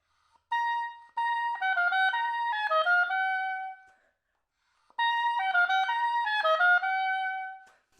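An oboe plays a short etude phrase twice, with a quick run of 16th-note triplets between longer held notes, clear and solo with a pause between the two passes.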